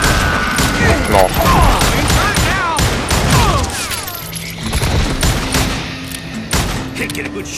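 Gunfire in Call of Juarez: Gunslinger, a Wild West shooter game, with dense, rapid volleys of close, loud shots and thuds crackling over several seconds, sometimes overlapping, while voices talk over the action.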